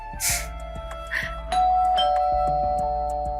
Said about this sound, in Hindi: अरे घंटी बजी है, लगता है कोई आया है